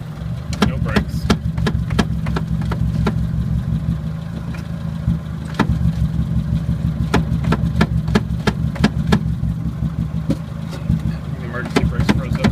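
A 1980 Chevy Luv truck's engine runs at a steady idle, a low rumbling drone broken by repeated sharp clicks and clatters, close by and fairly loud.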